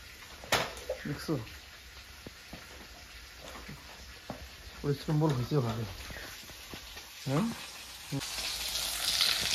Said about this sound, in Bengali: তো এদিকে মাছগুলো ভাজা করছি